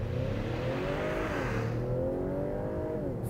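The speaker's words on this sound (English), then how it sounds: "I'm actually gonna do a pseudo launch control" A 2021 Acura TLX Advance SH-AWD launching from a standstill with traction control off, its engine droning steadily and rising in pitch through the gears, close and continuous with no talk.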